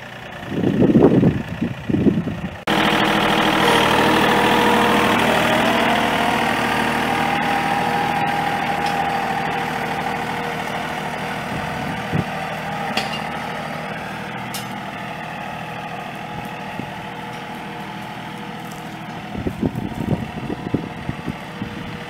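A John Deere 3025e compact tractor's engine runs steadily while it is driven, a loud continuous mid-range drone that holds for most of the stretch, with a few brief knocks and clatters near the end.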